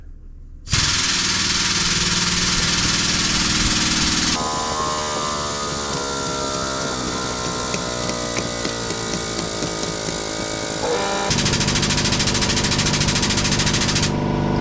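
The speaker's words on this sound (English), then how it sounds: "so now I'm going to jack it up and you can see just how easily this goes" A bus jack lifts a Prevost bus: steady, loud mechanical droning and grinding run continuously for about fourteen seconds, the tone shifting between sections, with no talking.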